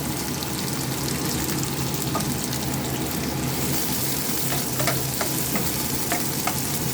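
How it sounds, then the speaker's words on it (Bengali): Chopped tomatoes dropped into a pan of frying puti fish, a steady loud sizzle of hot oil with scattered sharp crackles and light stirring, continuous and close, with no voices. "এখন আর একটু টমেটো কুচিয়ে দিয়ে দিচ্ছি"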